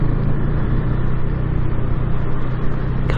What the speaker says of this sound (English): Couple of old Landies.